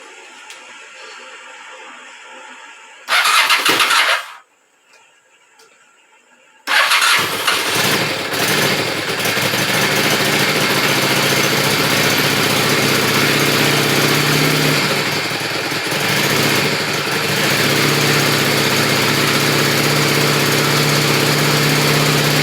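A Honda Shadow 600 motorcycle with a missing choke cable, started directly after a week unused: a short cranking burst, a pause, then the engine catches and settles into a loud, steady, close idle with no talking.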